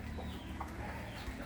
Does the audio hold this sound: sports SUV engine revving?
no